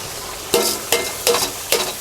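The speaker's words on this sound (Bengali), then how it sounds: "ম্যারিনেট করা চাল দিয়ে দিচ্ছি" Marinated rice goes into a pot of half-browned meat frying for pulao, heard as four distinct scraping stirs over a constant close sizzle.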